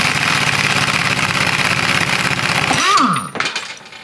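An impact wrench at full power on a lug nut during a Mazda RX-7 FC3S subframe swap: a steady loud buzzing hammer for about three seconds, then it winds down and stops with a few rattling clanks.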